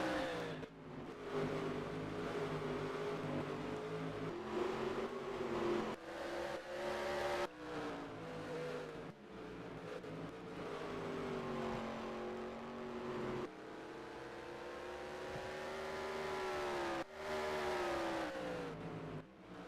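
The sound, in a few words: race cars accelerating in a sim racing video game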